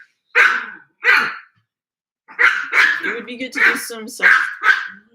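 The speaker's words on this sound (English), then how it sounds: "My dog is barking so much." A pet dog barks repeatedly indoors, two sharp barks followed by a flurry of louder yips and barks, overlapping someone speaking.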